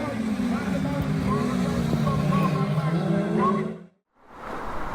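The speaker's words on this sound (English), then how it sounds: "autograss racing for car enthusiasts" Autograss racing cars at a Herefordshire track, a steady, droning engine note that holds for several seconds before cutting out abruptly into a brief silence, then resuming faintly.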